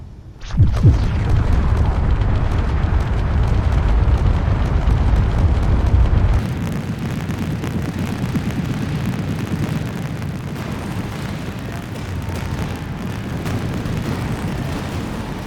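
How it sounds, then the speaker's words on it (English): A heavy mega cannon blast in Space Engineers booms out at a ship, followed by a long, loud rumbling roar that fades slightly but keeps churning, like a big game explosion. "fire at the ship with my mega cannon and see what happens there"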